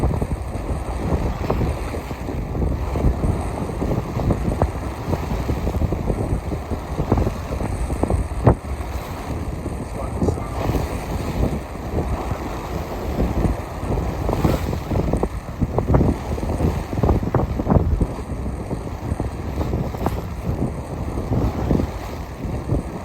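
Sailboat running fully canvassed across a bay near the Fethiye islands in strong wind of about 20 knots, with steady loud wind buffeting and broadband water rush along the hull throughout, no voices.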